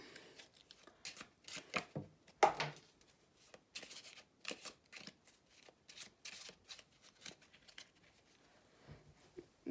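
A deck of playing cards is handled and shuffled up close, with soft riffling flutters and light taps in quick irregular bursts, fairly quiet.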